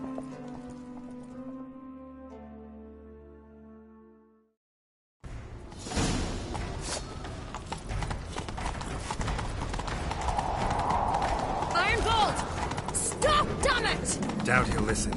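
Horse hooves clip-clop in The Witcher 3 as riders set off in pursuit, a rapid, busy drumming that builds after a musical cue and a short silence, with game sound effects around it.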